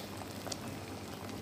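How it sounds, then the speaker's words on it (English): Irish potatoes boil in a pot on a home stove, giving a steady, faint bubbling hiss with soft pops that continues without a break. "This is my Irish potato is boiling."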